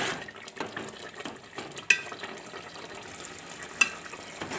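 Brinjal and mango curry cooks in a pan with a soft, low bubbling sizzle, broken by a couple of sharp metallic clinks of a utensil against the pan.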